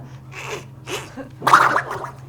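A voice imitates Donald Duck's sneeze: two quick breathy buildups, then a loud, sputtering, honking burst and a short trailing snort, close up.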